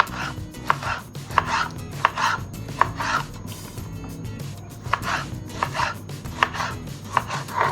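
A knife chops vegetables into small cubes for menemen on a board, with quick rhythmic thuds that come in bursts and short pauses, close and crisp, with no voices.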